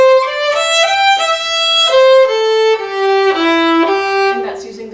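A fiddle plays the next part of the old-time tune Old Melinda in clear bowed notes that step down through the phrase. The sound is close and steady with no talking over it.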